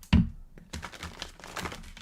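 A deck of oracle cards being shuffled: a soft thump as the deck is handled, then a run of quick papery riffling and crinkling, close and fairly quiet with no talk.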